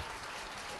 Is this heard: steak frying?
no